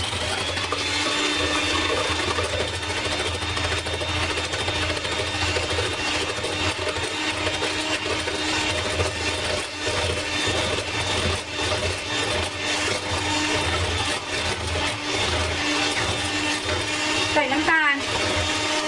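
A stand mixer beats vanilla cupcake batter at low speed, a steady whirring motor drone with rhythmic churning that runs continuously, close and loud, with a brief clatter near the end.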